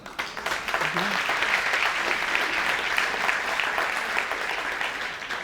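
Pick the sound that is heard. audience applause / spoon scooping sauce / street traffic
audience applause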